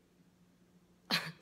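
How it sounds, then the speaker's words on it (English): A single short cough bursts out close by at the end, after a quiet stretch. "She's so put off by my coughing."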